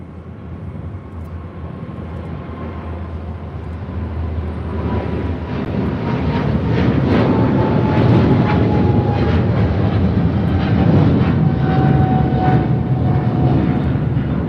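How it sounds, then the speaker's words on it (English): A China Eastern Airlines Boeing 777-300ER rolls down the runway and takes off from LAX, engine roar building from a moderate rumble to a loud, sustained thunder with a rising whine threaded through. "This is China Eastern Airlines 586 taking off to Shanghai on a 777-300ER."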